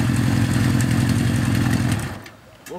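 A Honda 750-based café racer motorcycle engine runs with a steady, loud low rumble close by, then quickly drops away near the end.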